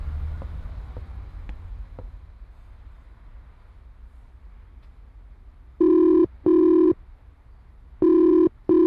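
Telephone number being dialed in the video game Midnight Margo: after a quiet stretch, four clipped electronic dial tones sound in two close pairs, loud and clean against soft background.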